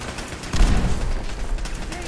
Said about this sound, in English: I forgot about these bloody laser turrets.